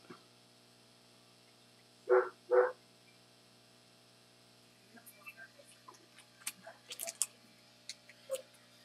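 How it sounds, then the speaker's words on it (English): Two sharp, fairly loud dog barks in quick succession, then quieter scattered clicks and small noises in an otherwise quiet space. "Can you let Bear inside so he'll stop barking"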